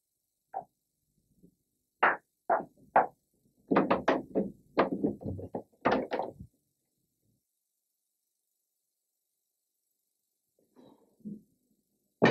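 Loud knocks pound on a house door in scattered bursts, a few single raps followed by a long flurry of rapid heavy blows, then silence with a couple of faint knocks near the end.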